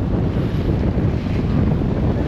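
Strong wind roars steadily against the microphone beside a lake, a heavy low rumble with no pauses.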